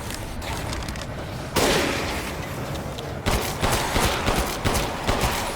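Gunfire in the survival horror game Resident Evil Village: a loud burst of shots hits suddenly, fades, then a quick run of rapid, punchy shots follows, close and prominent with no voices.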